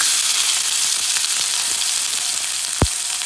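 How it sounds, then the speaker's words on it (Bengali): Chopped tomatoes fry and are stirred in a pan, a loud, dense, steady sizzle close up with faint scraping and one brief low thump near the end. "এবার এটা হালকা করে নাড়াচাড়া করে ভেজে নেব।"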